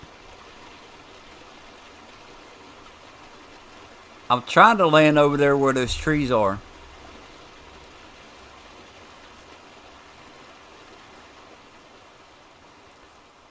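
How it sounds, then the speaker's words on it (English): A waterfall and stream in Farming Simulator 19 give a steady, even rushing hiss that runs the whole time. Someone talks over it briefly partway through. "So this is the waterfall"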